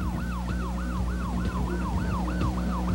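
Tampa Fire Department fire engine siren from 1994 wailing in a steady rising-and-falling cycle, loud and close, over a continuous low engine and road rumble, with no voices.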